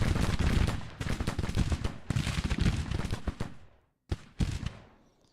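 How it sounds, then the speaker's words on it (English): Artillery in the Civil War strategy game Grand Tactician: The Civil War, a dense rolling volley of booming shots that fades, then two separate loud blasts. "Hey look, my artillery's firing."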